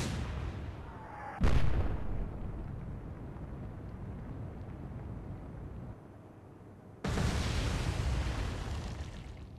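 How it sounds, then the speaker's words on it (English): Torpedoes strike a ship in the Atlantic Fleet naval game, two heavy booming explosions, each followed by a long rumbling roar, the second blast sustained to the end. "two torpedoes hit it"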